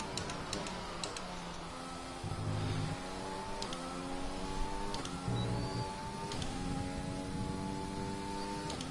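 F1 car engine in the F1 2020 video game, a steady high-pitched whine that climbs repeatedly through the revs with brief dips at each gear shift, continuous and alone.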